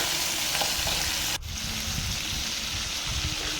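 Young pirandai (adamant creeper) with chillies sautéing in a pan, a steady close sizzle with stirring scrapes and a brief dip in the hiss partway through.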